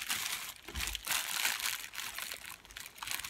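Close, steady crinkling and rustling of a plastic bag, with bursts of louder crackle as it is handled and squeezed.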